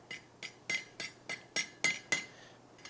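A hot rivet being hammered on a hand-forged hog catcher, a series of about nine sharp metallic strikes ringing close and alone, coming in a quick, slightly uneven rhythm.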